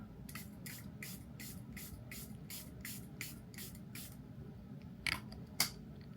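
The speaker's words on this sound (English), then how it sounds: "I think this is one of the best setting sprays on the market." One Size makeup setting spray misted onto a face in a string of about ten short, even pumps, close and soft, followed by two quicker sprays after a short pause.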